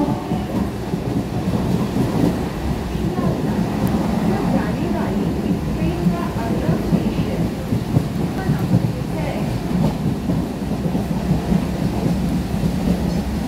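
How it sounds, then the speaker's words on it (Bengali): Rain falls outside a moving train in a continuous, dense rumble and wash of noise that holds steady throughout, heard from inside the carriage. "আর বাইরে বৃষ্টি করছে।"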